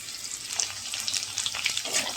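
Potatoes frying in oil in a home kitchen pan give a steady close sizzle with small crackling pops throughout, no voices.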